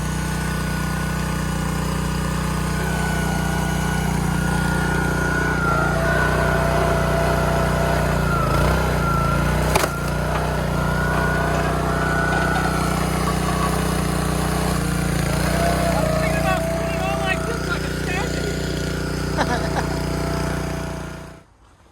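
A log splitter engine runs steadily and loud throughout while firewood is split, with a constant droning hum and faint shifts in pitch, before cutting off abruptly at the end.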